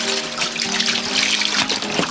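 Water poured and splashing while flushing out a dirty turtle pond with sand and mud, a steady close trickle and splatter with no voices.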